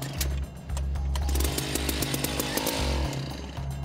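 A gas-powered ice auger runs loud and close, its two-stroke engine droning steadily with brief revs and dips as it drills through lake ice during winter net fishing.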